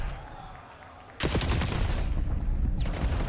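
Call of Duty gunfire during a League Major tournament match breaks out abruptly as dense, sustained automatic bursts after a quieter lead-in, loud and continuous to the end.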